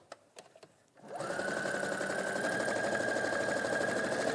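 After a few soft clicks, a sewing machine starts up for free motion quilting and runs at a steady, fast, even hum close to the microphone until the end.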